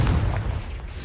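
Confringo explosion spell cast in Hogwarts Legacy, a deep booming blast with a heavy low rumble that carries through the whole short moment.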